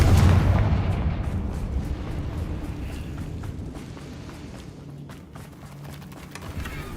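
A Confringo blasting spell in Hogwarts Legacy bursts with a loud deep boom at the start, then a rumbling tail decays over several seconds with scattered faint crackles.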